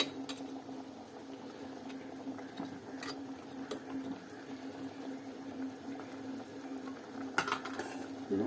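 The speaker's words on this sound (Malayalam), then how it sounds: "തവി കൊണ്ടൊന്ന് ഇളക്കാം. മീൻ നന്നായിട്ട് തിളക്കട്ടെ." Fish curry simmers in a pot, a faint steady bubbling with occasional soft clicks of a ladle stirring against the vessel, quiet and with no voices.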